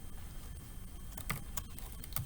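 Keys clack on a computer keyboard in a quiet room, a few sparse soft taps at first, then a quicker cluster of sharp clicks near the end, close and fairly faint.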